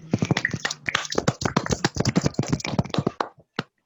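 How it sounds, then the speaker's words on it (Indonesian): A classroom of students claps in applause, a dense burst of sharp, close hand claps that thins out and stops abruptly after about three and a half seconds, leaving silence. "Sekali lagi tepuk tangan dulu untuk kita semua."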